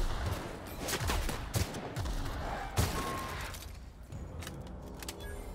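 Sharp shots go off in several quick bursts during a firefight in The Outer Worlds, fairly close, over the game's ambient sound, with a few scattered single cracks and no talk.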